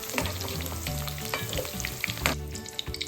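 Cauliflower and vegetables fry in oil in a pan, giving a loud close sizzle with scraping stirring strokes and clinks as they are pushed aside, and no talking.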